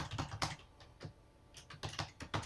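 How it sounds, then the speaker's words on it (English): Hard, clicky keystrokes on a computer keyboard, close and crisp, landing in short uneven bursts with brief pauses between them. "I'm typing really hard. I like those keyboards that actually click."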